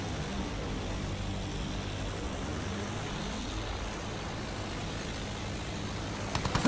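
An enemy aircraft flies in a Battlefield 1 dogfight, its propeller engine droning steadily with a pitch that slides as the plane passes, then a few sharp clicks near the end.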